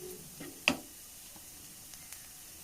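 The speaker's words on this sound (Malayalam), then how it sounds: "ഇഞ്ചിയും പച്ചമുളകും വെളുത്തുള്ളിയും സവാളയും ഒക്കെ ഒന്ന് സോഫ്റ്റായി വന്നിട്ടുണ്ട്" Ginger, green chili, garlic and onion softening in a pan give a faint, low sizzle, with one sharp clink of a utensil early on and a couple of softer ticks later.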